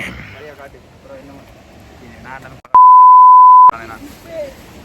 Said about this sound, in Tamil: இப்போ நீங்கள் வந்து இப்படி ஒரு பேட் வேர்ட்ஸ் பேசுனீங்கன்னா பீப் போடுவீங்களா